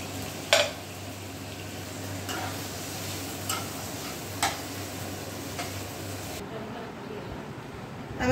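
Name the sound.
garlic and green chillies frying in a pan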